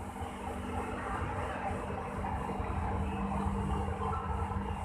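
Inside a Palembang LRT train as it rides into a station, a steady low rumble and hum of the carriage with faint rail noise, continuous and fairly quiet.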